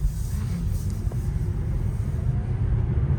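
A Tesla Model 3 Highland electric car pulls away, giving a low steady road rumble and faint whine from inside the cabin, with no talk.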